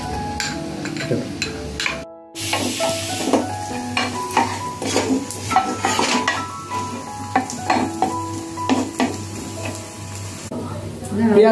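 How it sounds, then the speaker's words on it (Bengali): Onions fry in a pan while being stirred, a steady sizzle broken by repeated scrapes and clinks of a spatula against the metal, with a low background hum. "পেঁয়াজটা কিছুটা ভাজা হয়ে গেছে"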